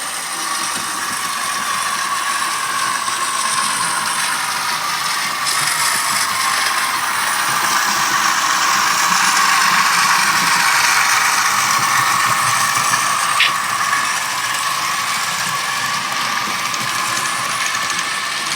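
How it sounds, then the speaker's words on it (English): Bachmann RS-3 model locomotive with a TCS WowSound decoder, its diesel engine sound held at a high throttle setting: a steady, loud mechanical drone with whirring and rattling texture, continuous and unbroken throughout, with no talking. "We started with the engine set at a high throttle setting"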